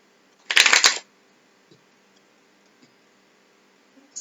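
A deck of tarot cards being shuffled in a quick riffle burst of about half a second, loud and close, followed by a few faint ticks and taps in near silence.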